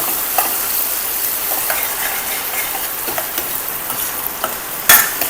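Onions sprinkled with a little salt fry in a pan while being stirred, producing a continuous hissing sizzle with scattered scraping strokes and one louder clatter near the end.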